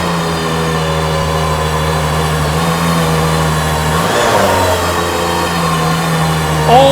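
An Aston Martin engine revving, a loud, sustained mid-to-low rumble that rises and swells toward the middle, then settles back to a steady drone, heard up close.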